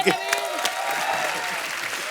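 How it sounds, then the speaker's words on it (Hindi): Studio audience applause on a Hindi TV comedy show, a brief burst of clapping over about two seconds mixed with a host's speech and background music. "जोरदार तालियां"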